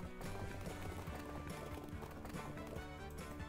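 Steady clip-clop of hooves from a horse-drawn cargo wagon in For Fuel's Sake, faint and continuous under game music, rhythmic throughout.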